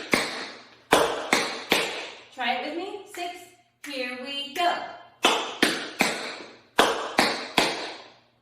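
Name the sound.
tap dance steps: scuff, hop, step, heel, toe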